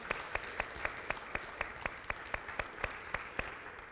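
Church congregation clapping in a steady rhythmic beat, sharp evenly spaced claps over a constant wash of applause, fairly distant and moderately loud.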